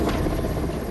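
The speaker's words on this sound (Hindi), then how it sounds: "सुबह वायुसेना का हेलीकॉप्टर मोर्चे पर उतरा" An Indian Air Force rescue helicopter at a flood rescue scene near Bilaspur gives a loud, steady rotor and engine roar that holds without a break through the short moment.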